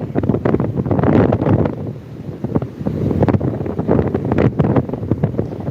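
Sea waves at a quiet beach wash steadily in a continuous broadband rush, with strong wind buffeting the microphone throughout and no voices.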